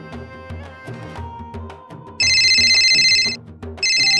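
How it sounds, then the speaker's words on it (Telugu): A phone rings with bright electronic ringtone bursts, two loud ringing bursts over a rhythmic plucked melody, close and clear with no talk. "ఫోన్ చేస్తారు."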